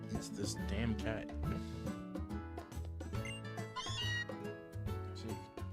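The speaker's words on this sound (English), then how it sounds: "It's this damn cat." A cat meows in Pokémon Sun, its game cry sitting over continuous background music with a dense, steady mix of tones throughout.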